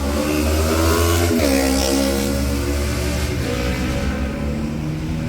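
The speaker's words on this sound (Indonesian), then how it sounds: "Lalu ada knalpot brong." A motorcycle with a loud, rumbling aftermarket exhaust revs and drones steadily nearby in city traffic, its engine note shifting as it accelerates and settles.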